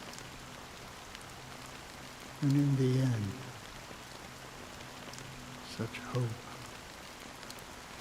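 Soft, steady rain falls throughout a scene in the video game Honkai: Star Rail, a faint, even hiss that continues while characters speak over it.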